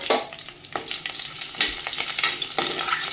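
Whole spices, garlic and curry leaves fry in a hot pan for paneer fried rice, a steady close sizzle broken by several sharp bursts of crackling and stirring scrapes.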